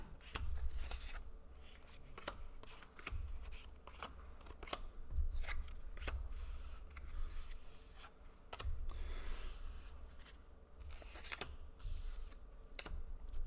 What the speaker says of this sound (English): Typically what I like to do here is separate my cards by color.